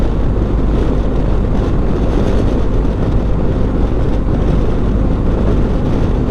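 Steady roaring rush of wind and engine drone from a moving motorcycle, loud and constant with no voices.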